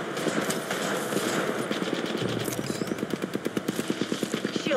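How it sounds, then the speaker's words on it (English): Video game gunfire: a dense, steady burst of rapid automatic shots rattles loudly and evenly in the second half, after a busier, mixed opening. "I am taking fire."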